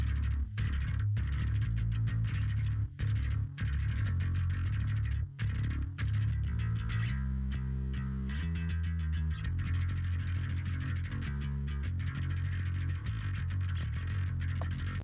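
A soloed metal bass line runs through multiband compression with the threshold brought down. It sounds as a dense, steady low rumble of sustained notes with some shifting pitch movement, continuous and loud for the whole span, with no talk.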